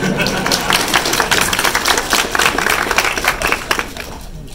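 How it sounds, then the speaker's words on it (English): Audience at a Montreal Comiccon Overwatch convention panel clapping and cheering, a dense, steady wash of applause that fades slightly at the end. "Insert applause."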